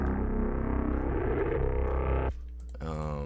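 A harsh, buzzing synth with bipolar-mode distortion, made in FL Studio, drones loudly, then cuts off abruptly and shifts to a thinner, gritty tone.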